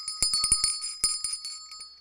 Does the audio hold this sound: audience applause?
no